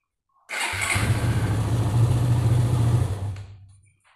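A Suzuki Satria FU 150 motorcycle engine cranks and fires up, settling into a loud, steady idle close by for a few seconds before cutting off, with no talking.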